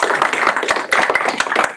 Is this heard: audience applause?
yes